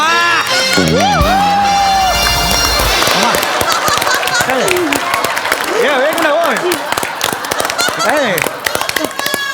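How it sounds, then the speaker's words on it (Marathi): Audience at a Marathi comedy show, Maharashtrachi Hasya Jatra, breaks into loud sustained applause with cheering, mixed with background music and voices throughout. "टाळ्या वाजवा"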